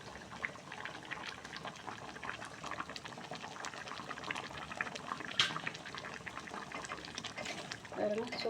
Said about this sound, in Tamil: ஒரு 4 கொதி வந்து இறக்கிடலாம்.